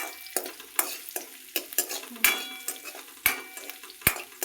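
Green chili frying in a mix of ghee and oil, stirred with a utensil that scrapes and clinks against the pan in irregular strokes over a steady close sizzle, no talking.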